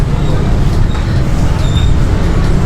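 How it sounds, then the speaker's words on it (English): Ambience inside Sudirman station on the Jakarta commuter line in Indonesia, a steady loud low rumble with a constant din of distant activity and a few faint tonal beeps or squeals, with no clear voices. "Now we are in Sudirman train station."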